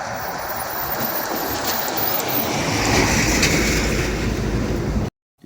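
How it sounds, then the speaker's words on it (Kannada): Kabini river water flowing past a bridge on farmland, a steady broad rushing wash that holds at an even level for about five seconds before cutting out abruptly. "ಇಲ್ಲಿ ನೋಡ್ತಾ ಇದ್ರಲ್ಲ, ಕಬಿನಿ ರಿವರ್ ಫ್ಲೋ ಆಗ್ತಾ ಇದೆ."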